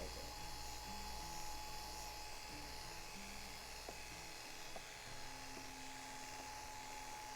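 Electric hair clippers trim a low taper fade at the nape of the neck during a barber's haircut, giving a steady, close, high buzzing hum that runs throughout with faint background noise.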